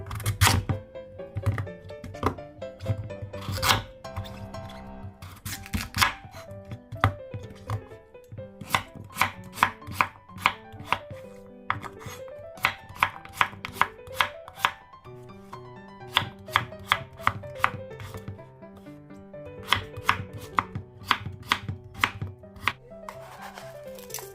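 A knife cuts a radish into slices about 1 cm thick on a cutting board, with crisp, sharp chops landing in quick bursts and brief pauses between runs.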